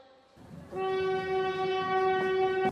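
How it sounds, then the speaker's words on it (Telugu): A train horn blares loudly and steadily after a brief rumble, sustained tones holding nearly to the end. "ట్రైన్ దగ్గరికి వస్తుంది"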